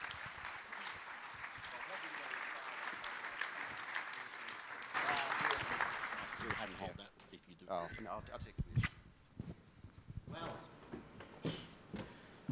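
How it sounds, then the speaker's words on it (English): An audience at the AusCERT 2017 security conference claps in a loud, dense burst of applause that thins out over several seconds, giving way to people talking. "Give them a big round of applause."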